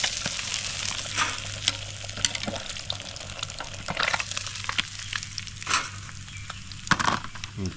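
Rock bass fish deep frying in a deep fryer, a dense continuous crackling sizzle with bursts of louder popping and bubbling throughout, close and steady with no voices.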